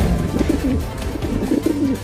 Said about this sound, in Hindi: कबूतर हमारे घर में घुस गया है और वहाँ वो दाना चुग कर खा रहा है।